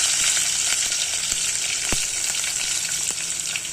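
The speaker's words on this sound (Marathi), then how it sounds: "आता हा कांदा थोडंसं टाकून घेते" Onion frying in hot oil with curry leaves in a pan, a loud continuous sizzle with scattered spitting pops, heard close up and alone.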